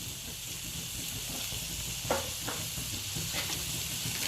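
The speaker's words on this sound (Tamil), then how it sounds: "எல்லாத்தையும் சேர்த்து நல்லா இப்படி ஒரு வதக்கிடுங்க" Spices sizzling in a pan while sweet potato masala is sautéed, a steady frying hiss with a few faint stirring clicks and scrapes, close and continuous with no talking.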